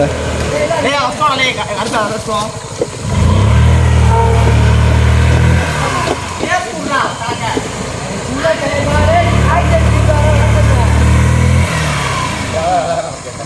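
A stuck vehicle's engine revs hard in two loud sustained bursts of about three seconds each, separated by lower idling, while people talk over it throughout.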